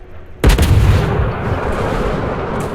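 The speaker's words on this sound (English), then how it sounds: "Napoli is getting closer up, ready to fire AP shells." A French large cruiser's main guns fire armour-piercing shells in World of Warships, one sudden deep boom out of quiet followed by a long rumbling decay, loud and close.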